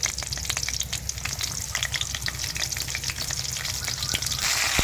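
Chopped onion and garlic fry in hot oil in a village kitchen, a continuous dense sizzle with sharp crackling pops heard up close and no speech.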